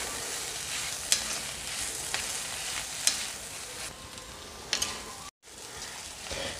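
Fennel powder and garam masala sautéing in a pan give a steady, moderately faint sizzle with a few sharp stirring clicks and one brief dropout near the end.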